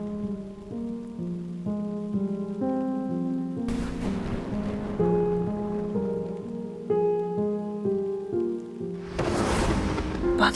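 Thunder crashes twice over falling rain in a television drama scene, each burst loud and brief, while a melodic music score plays throughout.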